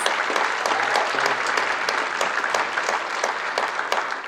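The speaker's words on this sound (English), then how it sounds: "Let's give them another round of applause." An audience at a university spring gala applauds a stage performance, dense continuous clapping from a sizable crowd filling the room at an even level, with a few louder individual claps near the listener.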